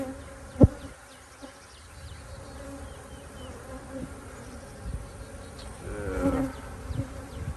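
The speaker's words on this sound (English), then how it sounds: "There's a drone going in." Honeybees buzz in a dense, close hum around a hive entrance, with individual insects droning past the microphone, one louder bee passing near the end, and a sharp knock near the start.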